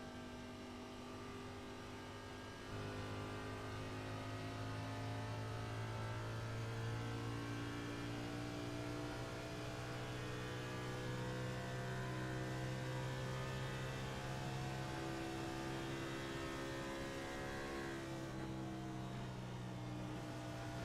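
A race car engine drones at a steady high pitch on a dirt track, swelling louder after a few seconds and holding a sustained, buzzing rev throughout with no voices over it.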